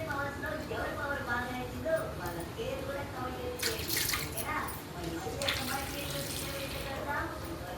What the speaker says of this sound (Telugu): నిమ్మకాయలు మాత్రం చాలా శుభ్రంగా కడుక్కోవాలండి.